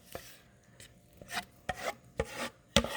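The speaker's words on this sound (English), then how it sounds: "Make sure to scrape the edges of your bowl." A spatula scrapes the sides of a mixing bowl of cake batter for a dragonfruit cheesecake. Short rasping strokes and soft knocks come in an uneven rhythm, heard close and without any talking.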